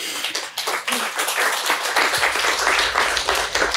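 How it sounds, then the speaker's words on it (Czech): A small audience gives a brief, modest round of applause, scattered hand claps rising into a steady patter over a few seconds, close and fairly loud. "za ten takový jako drobnej malinký potlesk"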